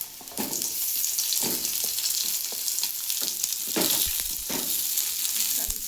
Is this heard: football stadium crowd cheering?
no